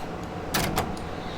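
Doors on an S7 Stock London Underground train in Train Simulator 2019 slide shut, giving two short close hiss-and-thud bursts over steady cab hum, without talk.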